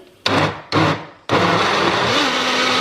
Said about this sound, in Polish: Blendujemy.